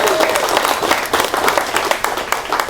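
A press conference crowd at a bare knuckle fighting championship event applauds, brisk dense clapping at close, loud level, with faint voices mixed in beneath it.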